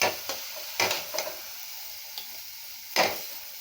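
Spoon stirring ragi paniyaram batter in a bowl, a few soft scraping swishes at irregular intervals over a steady background hiss, close up.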